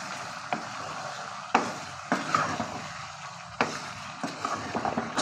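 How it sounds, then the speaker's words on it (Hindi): Chicken stir-fried in a pan for a Chinese-style mixed vegetable dish, with a steady low sizzle broken by several sharp scrapes and clanks of a spatula against the pan. "चिकन ऐड करने के बाद हमने इसकी अच्छी तरीके से भुनाई करनी है।"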